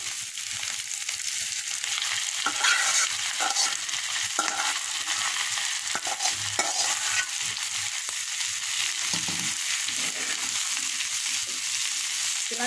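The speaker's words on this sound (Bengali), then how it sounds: "এখন আমি সিদ্ধ করা শাকগুলো দিয়ে দেবো।" Boiled pea greens being stirred into fried onion and shrimp in a hot pan, with a steady sizzle and repeated scraping stir strokes throughout, close and alone without voices.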